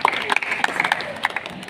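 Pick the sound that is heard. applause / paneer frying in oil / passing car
applause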